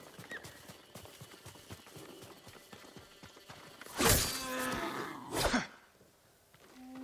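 Rhythmic hoof clip-clops from a horse in the game Ghost of Tsushima trot along steadily, broken by two loud, close neighs in quick succession before the hoofbeats resume.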